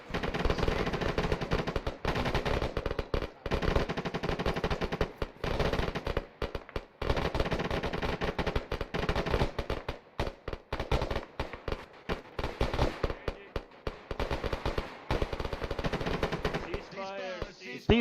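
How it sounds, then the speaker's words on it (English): A machine gun firing at a sustained rate during military platoon training, with loud, close bursts repeating in a steady chopping rhythm, separated by brief pauses. "1-1 sustained rate of fire. Begin."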